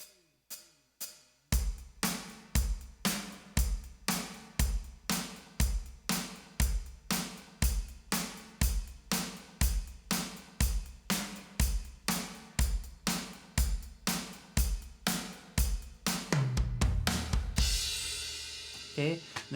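Drum beat played on hi-hat cymbals with the downbeats accented, a steady fast stream of crisp hits alternating loud and soft over a kick pattern, ending with a crashing cymbal wash that rings out.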